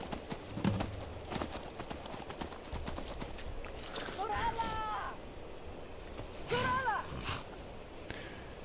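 Hoofbeats of a horse in the Skyrim video game, a steady clip-clop rhythm at moderate distance, with a couple of brief whinny-like calls partway through over a busy background.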